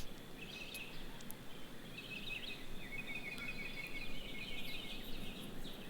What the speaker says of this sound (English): What's with the bird noises?